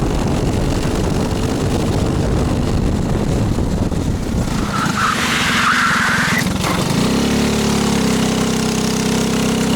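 A go-kart engine roars continuously and loud as the kart races and slides on a dusty track, with heavy wind rush and a shift to a steadier, lower engine tone near the end.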